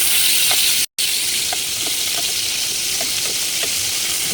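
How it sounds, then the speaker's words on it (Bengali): Shol (snakehead) fish fries in hot oil as the second side cooks, a loud, even close sizzle with scattered soft pops, broken by a brief dropout near the start. "এক পাশ ভাজা হয়েছে, এখন আরেক পাশ ভাজবো।"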